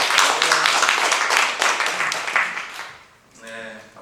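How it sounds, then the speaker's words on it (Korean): A church council assembly applauds in a quiet, brief burst of clapping that fades out after about three seconds, followed by a voice speaking. "박수 한번 조용히 한번 해주세요."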